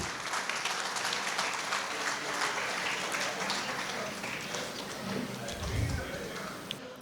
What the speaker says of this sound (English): The sound of the clap,